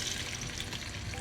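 Onions sizzle in 200 grams of hot oil for a restaurant-style chicken jalfrezi, a continuous, close, loud frying hiss with no talking.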